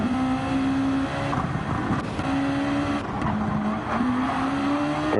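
Race cars in a racing video game at Spa, engines droning loudly while tires squeal in several long wavering skids as cars lose traction, no talking.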